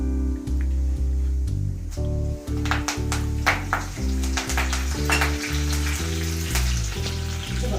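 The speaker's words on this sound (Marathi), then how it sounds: "त्यामध्ये आता आपल्याला घालायचे कढीपत्ता।" Cumin and curry leaves sizzle steadily in hot oil for yellow rice, a continuous crackle under loud background music with a strong beat.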